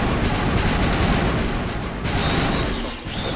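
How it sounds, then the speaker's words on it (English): Sustained rapid gunfire and explosive bursts from a Mass Effect Legendary Edition firefight, loud and continuous, with a brief dip near the end. "I won't be able to hear you over the gunfire."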